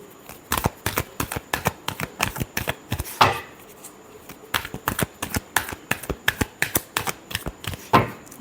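Tarot cards are shuffled by hand in a steady run of crisp slaps and riffles, close and fairly loud, with a brief pause midway.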